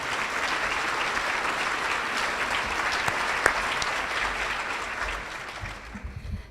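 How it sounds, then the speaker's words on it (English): Sustained applause from a crowd at a cancer charity kickoff reception, many hands clapping in a dense, even roar that holds steady and then thins out near the end, heard on its own without talking. "please join me in supporting these men with a huge round of applause for their time and dedication"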